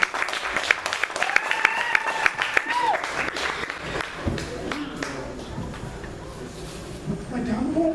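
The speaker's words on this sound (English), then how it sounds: "Give yourselves a round of applause once again." Crowd applause at a live opening-act performance, mixed with irregular taps, thumps and a couple of whistle-like tones, loud at first and thinning out, with no clear speech.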